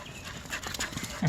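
A pet dog pants and whimpers softly nearby in a quiet room, a few breathy huffs ending in a louder low vocal sound.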